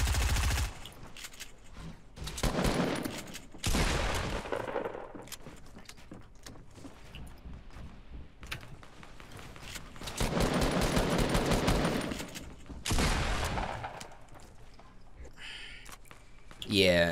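Gunfire in the Fortnite video game, several loud, separate bursts of rapid shots with quieter stretches between them, while players talk throughout.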